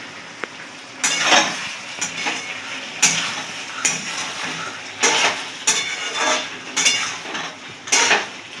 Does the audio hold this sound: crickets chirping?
no